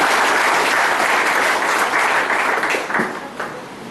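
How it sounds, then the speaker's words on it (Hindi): Loud, dense applause from a large seminar audience in an Indian hall, sustained and close, tapering slightly toward the end with no talk over it. "तो एक बार जबरदस्त तालियां होगा।"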